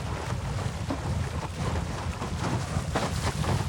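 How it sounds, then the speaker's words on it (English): Steady wind roars across the microphone while windsurfing on the open sea in light, roughly 8-knot wind, with a continuous rushing hiss and occasional water splashes from small waves, close and loud throughout. "The wind doesn't die. But it could be a bit more."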